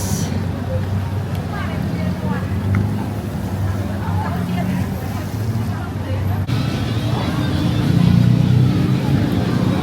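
A tuk-tuk engine runs on a Thailand street with a steady low rumble and hum that grows louder near the end, under a background of voices and street noise.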